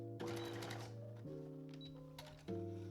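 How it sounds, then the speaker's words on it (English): A sewing machine stitches around the lining of a homemade winter coat sleeve in short bursts, its steady hum starting and stopping three times with faint clicks between runs. "I'm just going to sew that all the way around."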